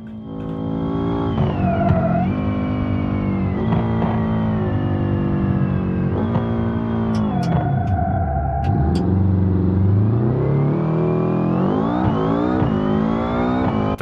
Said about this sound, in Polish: Teraz już na Nitrze jedziemy w tą stronę.